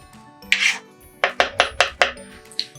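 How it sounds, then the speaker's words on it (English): Pumpkin being worked into johnny cake batter, heard as a short run of crisp, evenly spaced scraping chops of a utensil against the bowl, close and fairly loud, with a lone stroke before the rapid series. "It gets all the pumpkin well mixed in and it gets crumbly"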